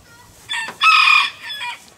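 Chickens inside a farm coop let out a short burst of loud, close clucks and a brief crow-like call, with no talking.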